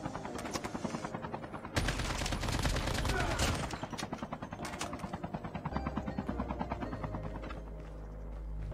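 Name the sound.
gunshots in the video game Call of Duty Mobile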